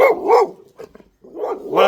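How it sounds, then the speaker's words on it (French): A dog barks twice close by, a pair of loud, sharp barks separated by a short pause, then a third bark at the end, with no talk over it. "Voilà, un chien."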